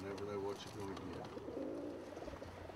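Pigeons in a mixed pen coo in soft, rolling calls, several overlapping at close range, with a low background murmur throughout.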